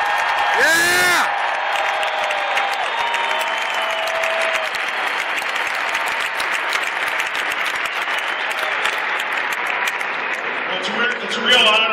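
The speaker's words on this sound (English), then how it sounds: "Can we please have a loud round of applause, ladies and gentlemen, for the great Robert Smith" A large stadium crowd at the Metrodome, the home of Minnesota Vikings football, gives a postgame ovation for Robert Smith. Applause and cheering hold steady and loud for several seconds, a whoop rises at the start, and the crowd surges again near the end.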